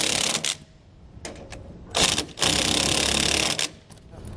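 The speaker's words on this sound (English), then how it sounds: "We'll now want to tighten and torque our U-bolts." U-bolt nuts on leaf-spring suspension being tightened and torqued, loud close mechanical rattling bursts: a few short spurts, then a longer sustained run, separated by quieter gaps.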